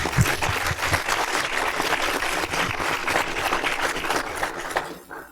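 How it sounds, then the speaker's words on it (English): A big round of applause for kids at a violence prevention meeting, dense clapping from a crowd, loud and continuous before fading quickly at the very end. "So I think really all of them a real big round of applause."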